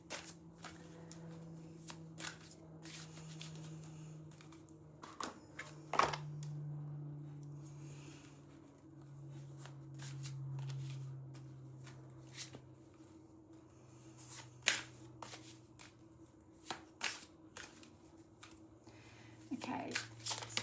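Tarot cards are shuffled in quiet, intermittent flutters and soft riffles, with light card taps scattered throughout and a person speaking softly over them.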